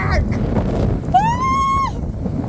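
Strong storm wind roars and buffets close against the microphone, with a brief rising whistle partway through and voices nearby.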